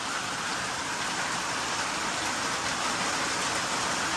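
Heavy rain pours steadily, a dense continuous hiss of drops drumming on surfaces, loud and even throughout with no voices.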